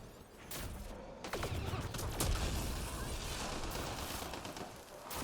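Sustained bursts of gunfire from the Mass Effect Andromeda video game, dense and loud throughout with sharp cracks and rumbling impacts layered over each other, no talk.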